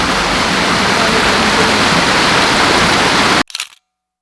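A waterfall roars as a steady, loud broadband rush, then cuts off abruptly, followed by a brief click like a camera shutter.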